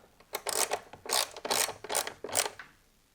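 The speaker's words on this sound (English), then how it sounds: "So we need to remove this bolt and the bolt down here." A ratchet wrench loosens a 10mm bolt on a mounting bracket for an Auxbeam AC800 switch panel: five close, quick bursts of rapid ratcheting clicks separated by short pauses, with no talking.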